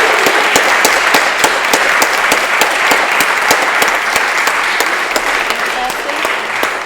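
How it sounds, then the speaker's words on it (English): After a talk and Q&A with Iskra Lawrence, an audience breaks into another round of applause, loud and close with sharp, rhythmic individual claps cutting through a dense crowd patter throughout. "Can we get another round of applause?"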